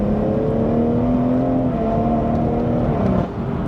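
A deep, throaty exhaust on a BMW M240i with the resonator deleted drones steadily as the engine pulls, a low rumbling tone that eases off near the end.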